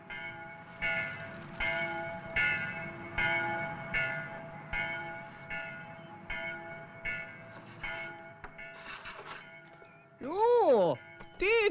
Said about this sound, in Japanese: 村の教会の鐘よ。